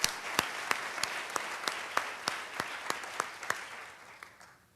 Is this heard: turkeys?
no